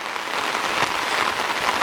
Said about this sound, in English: And I have to go home on this, in this pouring rain.